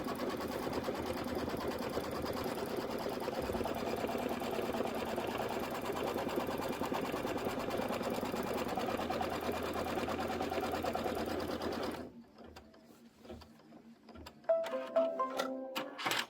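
An embroidery machine stitches a tack-down line on a quilted pillow block, a steady close rapid whir for about twelve seconds, then it stops and a few small clicks and handling sounds follow.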